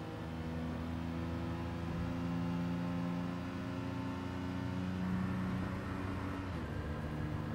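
Engine note of a Daihatsu Copen in the GT Sport racing game, a steady mid-pitched hum with layered harmonic whine that shifts pitch slightly as revs change, with no talk over it.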